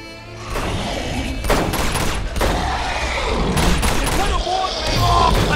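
Bursts of rapid gunfire from a third-person shooter video game, Uncharted 2, crackling loudly and almost without pause through a busy firefight, with heavy booms mixed in.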